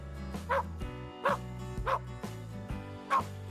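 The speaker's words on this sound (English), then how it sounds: "It's a dog." A dog gives four short, separate barks spaced about evenly apart, close and clear over a steady background music bed.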